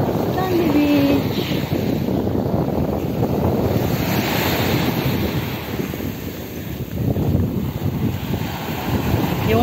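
Strong wind and surf wash over Stanley Beach, Hong Kong, near low tide: a loud, continuous roar of breaking waves with buffeting wind noise on the microphone, unbroken throughout.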